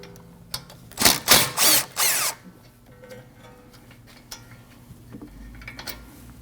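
A power tool whirs in several short, loud bursts, removing the 8mm bolt from a rear brake hose bracket on a Ford Escape, followed by quieter metallic clinks and handling noises.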